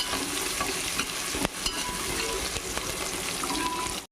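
Vegetables for veg pulao sautéing in a pan until golden, a continuous close sizzle with occasional stirring scrapes.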